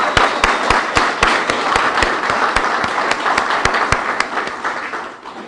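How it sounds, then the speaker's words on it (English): A crowd at an emergency response teams muster applauds steadily, with distinct individual claps standing out from the mass for several seconds before the applause tapers off, and no talk over it. "Let's give them a round of applause."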